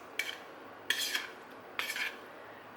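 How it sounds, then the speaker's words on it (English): Chopped avocado stirred in a bowl, three or four short scraping, rasping strokes of a utensil against the dish, close and fairly quiet with brief pauses between. "I'm gonna stir this up just a little bit, stir it up"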